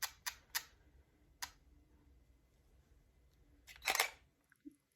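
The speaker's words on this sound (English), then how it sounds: "You hear it open and close fast." A camera shutter fires at fast speed, giving several sharp, quick clicks in a row, each a crisp snap. A louder rattling burst comes near the end, close by in a quiet room.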